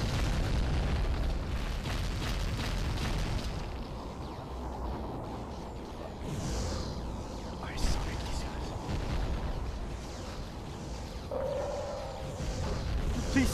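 Weapons fire in the underwater shooter game Aquanox, with a dense, continuous barrage of muffled booms and bursts rumbling throughout under a low game drone.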